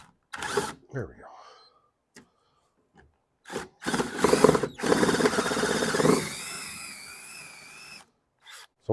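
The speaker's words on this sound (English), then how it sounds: "Sometimes going backwards with the drill makes a difference." A power drill spins in reverse while enlarging a hole in a fabricated antique car window part, starting with short stuttering bursts, then a long whining run with a rising squeal before stopping, with brief talk in the gaps.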